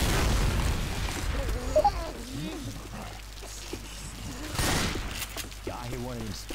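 A pipe bomb explodes in the video game Left 4 Dead 2, giving a heavy boom at the start and another blast near the middle, with voices talking around them.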